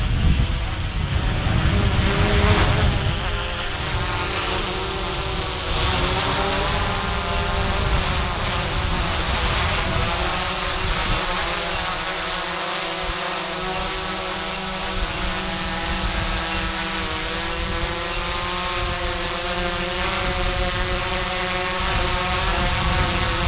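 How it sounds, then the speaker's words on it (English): An Autel EVO drone flies nearby with a steady high-pitched buzzing whine that shifts slightly in pitch as it moves, continuous throughout with no talking. "Let's just fly the drone in front of it so you can see"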